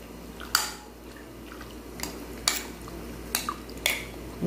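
A utensil stirs a low-carb coffee jelly mixture in a bowl, giving a series of sharp clinks and scrapes spaced about a second apart, with a faint wet squish and a steady background hum.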